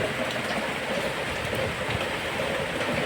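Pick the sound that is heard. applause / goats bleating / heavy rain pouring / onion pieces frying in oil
heavy rain pouring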